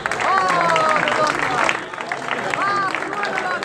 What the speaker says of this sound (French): Applaudissez-le fort parce qu'il vient de très loin.